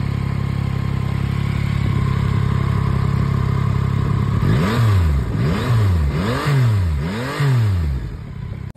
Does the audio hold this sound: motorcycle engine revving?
yes